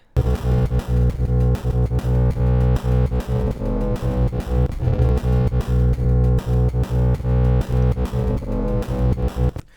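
Deep, slowed-down bass drones steadily while a noise gate sidechained to the drums chops it into rapid rhythmic pulses, giving a choppy pumping texture throughout.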